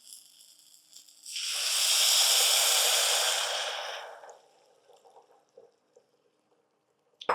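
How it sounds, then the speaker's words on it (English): Water poured into a pan of toasted rice bursts into a loud hissing sizzle that swells, holds for a few seconds, then fades into soft crackles and pops. "So we're gonna come in here with the water."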